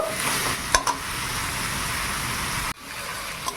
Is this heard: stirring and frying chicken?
yes